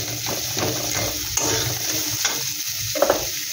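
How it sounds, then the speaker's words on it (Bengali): Chopped large onion and green chilli sizzle in hot oil in a pan while being stirred, a steady close fry with scraping spatula strokes and a couple of sharp clicks near the end. "পেঁয়াজটা একটু হালকা ভাজা ভাজা করে নেব।"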